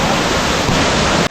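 Kuang Si Falls in Laos roars as a steady, loud wash of falling water, dense broadband rushing close by with no pauses and no voices.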